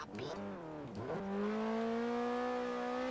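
Car engine in cockpit view in the Forza Horizon 3 racing game, droning steadily at high revs with a rising pitch, loud and close, after a brief shift and drop in revs.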